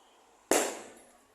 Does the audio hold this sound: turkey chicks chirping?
no